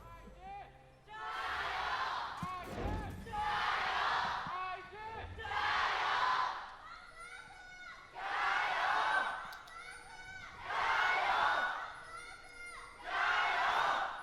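A crowd at a League of Legends LPL esports match between Invictus Gaming and FunPlus Phoenix chants in rhythmic bursts of roughly two seconds, shouted cheers rising and falling in a regular pattern with short gaps between them.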